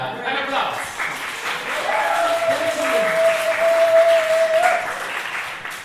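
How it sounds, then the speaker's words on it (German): Applause at a queer literature reading for the poet Stella Nyanzi and her translator Charlotte, a steady crowd clapping that swells slightly midway, with talk and a brief tonal whine over it. "Nochmal Applaus für Stella"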